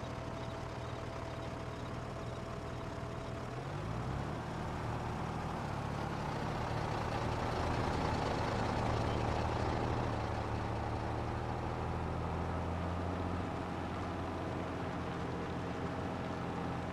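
A heavy truck engine in Farming Simulator 22 drones loudly and continuously, its pitch shifting as it revs up and then settles, with no talking.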